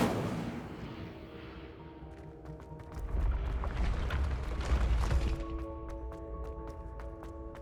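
An Incendio fire spell cast in Hogwarts Legacy: a swelling, rumbling whoosh of flame with crackling bursts and low booms lasting a couple of seconds over a sustained tonal musical background, then trailing off into scattered clicks.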